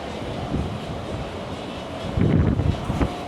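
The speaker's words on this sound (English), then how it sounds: "Whoa, and it's windy." Strong wind rushes and buffets the microphone in a steady roar on the open deck of the cruise ship Norwegian Breakaway, swelling into a louder gust near the end.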